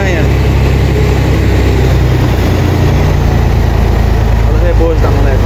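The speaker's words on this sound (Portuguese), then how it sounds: "Olha o motorzão aí, pessoal. Pensa na potência." A big diesel engine of a river ferry barge runs at a heavy, steady low rumble, loud and close, while someone talks over it.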